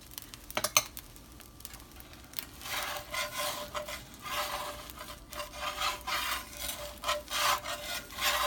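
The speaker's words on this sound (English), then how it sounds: "I'm applying a little bit clarified butter." Clarified butter is spread across an egg paratha on a hot pan, a soft, close rubbing and scraping in repeated strokes over a faint sizzle, starting with a few sharp clicks and quiet otherwise.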